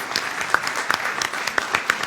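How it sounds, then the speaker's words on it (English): A forum audience at Tulsa Community College gives staff a short round of applause: scattered, moderately quiet hand claps with a few sharper individual claps standing out, lasting about two seconds, close by. "So let's give them a quick round of applause."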